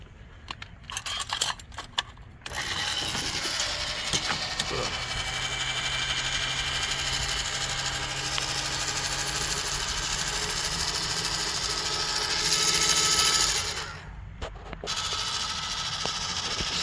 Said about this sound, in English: the injection screw obviously is quite huge, needs a lot of torque to turn it